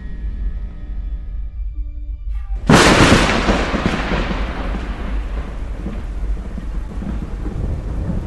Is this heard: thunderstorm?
yes